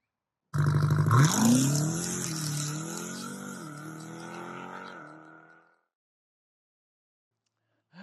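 An Audi TT RS engine revs loudly, sweeping up sharply and then holding a rising, throaty roar for several seconds before it cuts off into silence.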